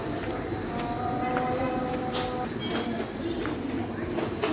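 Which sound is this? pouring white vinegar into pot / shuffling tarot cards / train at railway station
train at railway station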